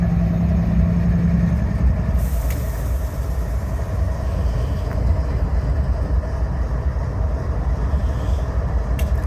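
A train locomotive idling near Needles, California: a loud, continuous low diesel rumble with steady engine throb, heard close and alone, with a brief faint higher tone early on and no voices.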